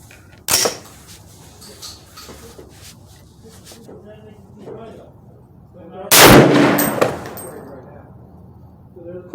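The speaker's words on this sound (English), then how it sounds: "I'm gonna be taking 3 shots at 100 yards" Two loud, sharp .338 Federal rifle shots are fired at a 100-yard target, one early and one about six seconds later, each with a short echoing tail, with quiet talking in between.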